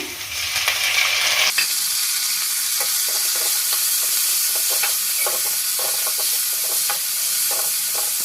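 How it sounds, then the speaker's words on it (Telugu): Two large chopped tomatoes hit a hot pan and frying starts with a sudden loud sizzle that stays steady, broken by repeated light stirring clicks. "టమాటాలు పెద్ద సైజు రెండు టమాటాలు కోసుకున్నాను అది వేస్తున్నాను"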